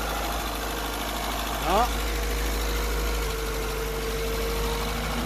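A Peugeot 205 TU petrol engine idles steadily with a low, even rumble and a faint whine. A short voice cuts in briefly near the start.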